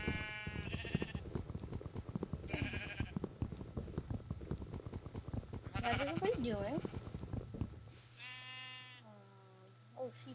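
Several Minecraft sheep bleat in synthetic, harmonic bursts, one near the start and more around the middle and end, mostly under steady talking from a player, with a low game hum beneath.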